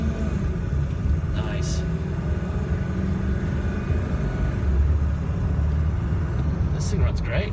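A truck engine revving under acceleration while driving, a heavy rumbling drone that builds and holds, with a brief spoken word over it and a couple of short sharp noises.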